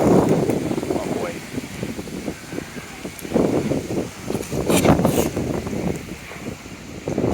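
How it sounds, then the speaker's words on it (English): Strong, gusty wind sweeps across an open disc golf course, buffeting the microphone in uneven, rumbling surges while people talk nearby. "It's just that wind is ripping everything over. Big wind."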